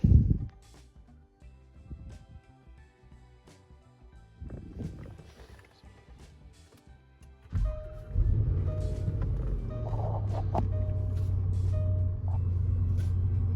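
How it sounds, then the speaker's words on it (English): A 2012 Range Rover Sport fitted with a new battery starts after a quiet pause, its engine catching at once and settling into a steady, loud, close idle hum. "The car is started really fast. I would say that before it was kind of a bit cranking, then it starts, but with the new battery it starts just right away."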